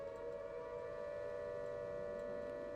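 Air raid sirens wail in the Silent Hunter 5 submarine game, a steady sustained tone that drones on continuously and sounds somewhat distant and faint, with no voices.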